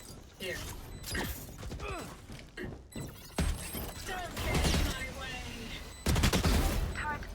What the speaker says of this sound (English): Solid shots from Nolan.